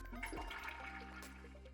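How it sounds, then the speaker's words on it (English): A Villeroy & Boch ProActive Plus toilet flushed by its built-in button, a close, steady whoosh of rushing water that starts with a brief low gulp and then keeps swirling evenly. "A conventional manual flush can be performed using the integrated flushing button."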